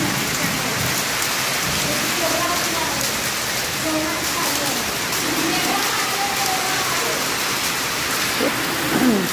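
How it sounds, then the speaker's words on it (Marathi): Heavy rain pours down during a windy storm outside a hotel, a dense continuous hiss of falling water. Faint voices and a low thunder rumble sit beneath the steady downpour. "पाऊस आता जोरानं चालू झाला"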